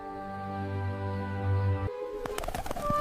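A low, sustained cooing tone gives way to a burst of chirping and fluttering bird calls, close and fairly clear.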